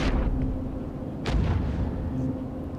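Raven battleship weapons firing in the EVE Echoes space game: dull, heavy booming volleys with a sharper blast around the middle, loud and continuous over a low rumble.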